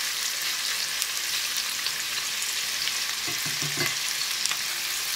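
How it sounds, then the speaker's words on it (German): Chicken hearts sear in a hot pan with a loud, steady hiss and crackle, close up, with a few soft clinks of stirring midway and no talking. "So, die werden jetzt hier scharf angebraten in ein paar Minuten, bis sie so eine leichte Kruste haben."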